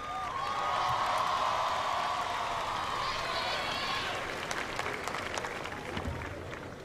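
A crowd at a torchlight parade cheers and applauds to welcome the Texas cheer and pom squad. A loud, sustained roar with clapping runs under an announcer's voice and slowly tapers off.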